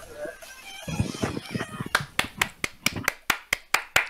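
Steady, evenly spaced hand claps ring out close and loud during a Polish livestream, coming after a stretch of mixed voices and room noise at the start.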